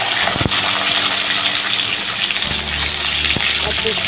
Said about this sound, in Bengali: তো এর মধ্যে আমি এই যে কেটে রাখা যেটা শিম দিয়ে দিলাম